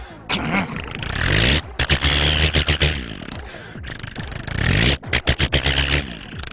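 Someone mimics a tractor engine with a low, rough chugging voice. The sound runs in rhythmic putt-putt pulses and breaks off a few times.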